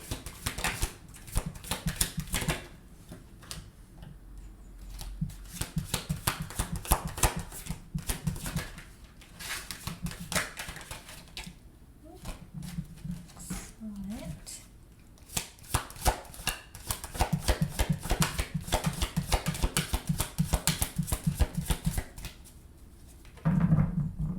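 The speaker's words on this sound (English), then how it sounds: "I'll show the cards to you guys once I'm done here shuffling completely." A tarot card deck is shuffled by hand at close range, a long run of dense riffling and rapid card slaps in repeated bursts with brief pauses between them.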